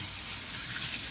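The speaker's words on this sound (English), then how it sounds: "I am going to wash my hands." Tap water runs steadily into a sink for handwashing in a kitchen, a close, constant hiss and gush with no talking.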